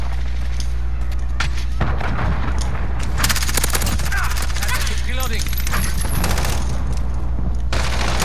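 MP7 submachine gun fire in a first-person shooter match on the Shoothouse map, with loud rapid bursts of automatic shots over steady game background noise and some explosive booms.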